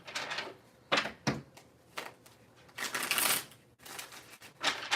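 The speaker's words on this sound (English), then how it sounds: "So let me go ahead and continue to shuffle." Repeated bursts of cards being shuffled and riffled close by, several quick rattling flurries separated by brief pauses.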